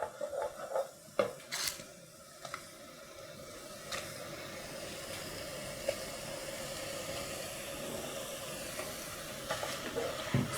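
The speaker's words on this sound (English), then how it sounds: "Stir it for another 1 minute." Kaffir lime leaf, salam leaf, galangal, lemongrass and ginger fry with yellow paste for Indonesian soto ayam: a steady close sizzle, with a few sharp spoon scrapes and clinks near the start, no talking.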